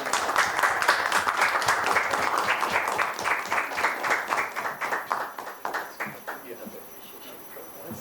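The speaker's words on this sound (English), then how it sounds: "A big round of applause" A room of attendees at a World Intellectual Property Day event breaks into a big round of applause, loud sustained clapping that thins toward the end into scattered claps.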